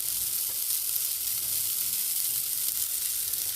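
Oil sizzles in a pan as green tamarind puliyogare paste cooks down, a close, steady, bright hiss holding at an even level throughout with no talk.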